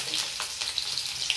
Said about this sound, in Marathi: म्हणजे गरम तव्यावर भाजून निघतात तेवढ्या प्रमाणात ते शेवया